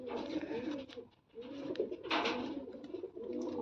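Pigeons coo continuously in low, throaty rolling calls, close by, with a brief lull partway through before the cooing resumes.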